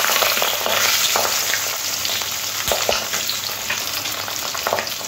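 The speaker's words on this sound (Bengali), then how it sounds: "এই তেলের মধ্যে পাবদা মাছগুলো দিয়ে এপিট ওপিট করে ভেজে নেব।" Pabda fish fry in mustard oil with a loud, continuous sizzle heard up close, dotted with crackles, spits and an occasional utensil knock, and nobody speaks.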